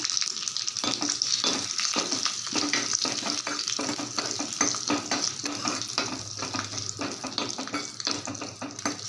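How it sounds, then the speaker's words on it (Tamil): Cumin seeds and slit green chilies splutter and fry in hot oil, making a continuous close-up sizzle scattered with crackling pops and the scrape of stirring, with no voices over it. "நல்லா பொரிய ஆரம்பிக்குது கொஞ்சமாக ஜீரகம் போட்டுக்கலாம்"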